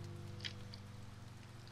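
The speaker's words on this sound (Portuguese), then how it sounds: "Tá chovendo." Rain in the video game Finding Paradise falls as a faint, steady patter over a low humming background tone, with a couple of slightly louder drops standing out.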